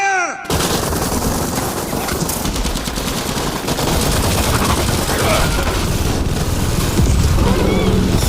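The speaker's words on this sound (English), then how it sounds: "Major Dolmatov immediately orders his team to open fire." Machine guns open fire in a film battle at night, a dense, loud, continuous burst of rapid gunfire that runs without a break for several seconds after a brief quiet opening.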